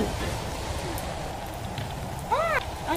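Steady rain hisses throughout in the video game Natural Disaster Survival, a dense, even wash of noise, with a short tonal game sound rising briefly near the end.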